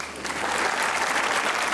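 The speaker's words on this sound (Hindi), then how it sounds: "अगर आप लोगों को ये शक है कि आप खूबसूरत हैं तो छोटी सी ताली बजाइए।" A studio audience claps in a dense, steady burst of applause on a comedy talk show, loud and continuous from start to finish.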